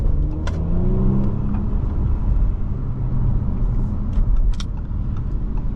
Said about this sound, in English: You can't hear too much of the engine, just a little bit.